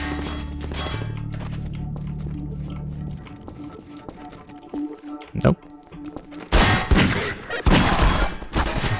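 Rapid bursts of gunfire from a Half-Life 2 firefight on hard difficulty, loud percussive volleys and sharp cracks over a steady game soundtrack, with a heavy cluster of shots near the end and someone talking over part of it.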